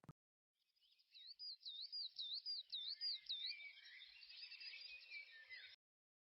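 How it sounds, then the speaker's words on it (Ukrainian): Spring birdsong: a single bird sings a long warbling, looping phrase of rapid trills and whistles, clear and close against near silence, ending abruptly. "Це звуки весни, спів пташок."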